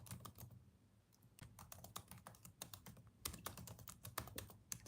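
Fast typing on a computer keyboard, a steady run of sharp, close key clicks in uneven bursts with a few brief pauses, and no talk over it.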